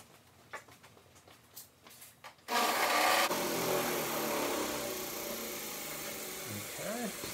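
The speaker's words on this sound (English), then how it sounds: "Sanded it up pretty good now." Steady, loud abrasive rasping of a wooden rake handle being sanded, starting after a few seconds of quiet knocks and handling sounds, close by and continuous.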